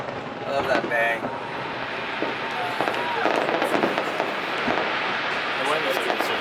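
Fireworks burst over the Honda Celebration of Lights festival in Vancouver during Team Quebec's show, a dense rolling barrage of bangs and crackles with a crowd chattering nearby throughout.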